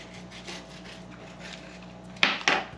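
A serrated knife saws the thick stem out of a collard green leaf on a board, soft rasping strokes that end in two sharper, louder cuts.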